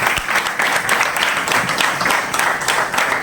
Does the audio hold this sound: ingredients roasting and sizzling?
no